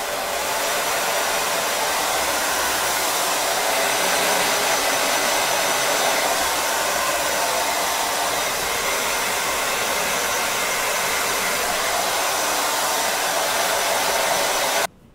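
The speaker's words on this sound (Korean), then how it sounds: "드라이기 조금 시끄러울 수 있어요" A hair dryer blows steadily and loudly at close range during hair styling, a continuous rushing roar that cuts off abruptly at the very end.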